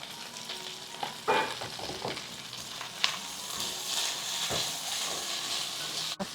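Stir-frying with oyster sauce, salt and broth: a steady close sizzle in a hot pan with scattered clinks and scrapes of the utensil, continuing throughout.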